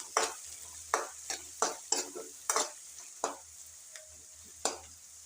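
Onions frying in a pan, a low steady sizzle punctuated by about nine sharp scraping strokes of a spoon stirring at an uneven rhythm, close and clear with no talk.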